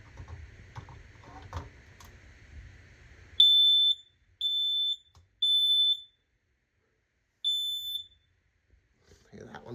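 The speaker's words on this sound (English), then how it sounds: "This one here is a dual sensor smoke detector." A dual sensor smoke detector under test sounds four sharp, loud, high-pitched beeps with short gaps between them, after a stretch of quiet indoor talking.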